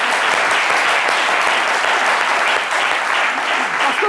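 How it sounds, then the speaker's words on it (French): Studio audience applause on a midday television show, a loud, sustained, dense wall of clapping holding steady for about four seconds. "Ça s'applaudit."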